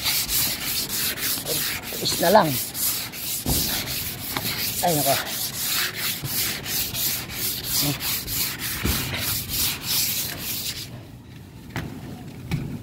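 A construction worker hand-sands a metal gutter during a regutter and repaint job, rhythmic rasping strokes repeating steadily and close, with a few brief spoken words between strokes.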